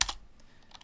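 A few quick keystrokes on a computer keyboard while entering a Linux scp command, a sharp initial clack followed by lighter taps, close and crisp in a quiet room.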